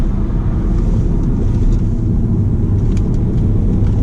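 A stage 1 tuned BMW E60 535d diesel, rear-wheel drive, cruises on the road, heard from inside as a steady low engine and road drone with wind rush, constant and loud throughout.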